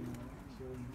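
Pigeons coo softly in a low, steady murmur of repeated hums in a coop of Turkish game pigeons, faint under an ambient background.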